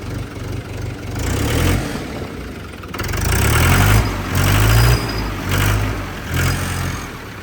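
A Mahindra 585 tractor's diesel engine idles steadily with a low, chugging throb, close by, with the tone swelling and easing in slight surges.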